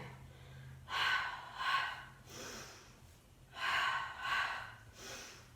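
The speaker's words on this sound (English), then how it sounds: "Exhale, inhale." Slow, deep breaths drawn in and pushed out during a Pilates mat workout, four strong broad breaths in pairs with a softer one between, close and clear with no talking.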